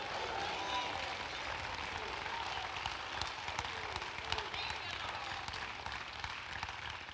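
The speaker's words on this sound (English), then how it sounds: "Put your hands up in the air and clap your hands and shout glory unto the Lord" A church congregation at a Sunday sermon claps hands and shouts praise, giving a continuous, lively wash of applause and crowd voices that stays loud and even from start to finish.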